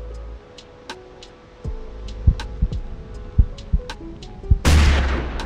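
A hunting rifle fires in the Hunting Simulator video game, a sharp shot followed by a burst of noise, with scattered ticks and thumps beforehand.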